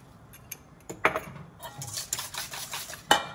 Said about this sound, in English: I wanna make sure I whisk it so it's really separated beautifully